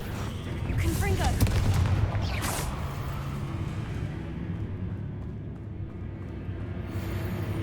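Explosive spell blasts in the Hogwarts Legacy game: a loud burst of booming impacts with crackling debris over the first two and a half seconds, then a sustained rumbling combat wash that fades lower.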